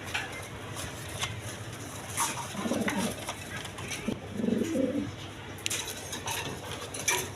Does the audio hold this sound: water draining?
no